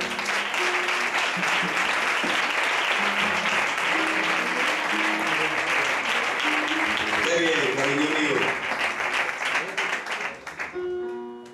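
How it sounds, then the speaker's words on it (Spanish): Congregation applause during a Spanish-language church service, sustained clapping with cheering voices and some tonal sound underneath, holding steady before tapering off near the end. "Fuerte aplauso para el Señor."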